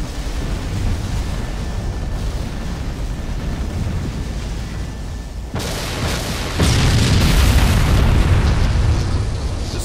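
A Scarab walker is destroyed in Halo Wars, sounding as a sustained, loud rumbling explosion that swells abruptly partway through into a heavier roar and stays dense to the end.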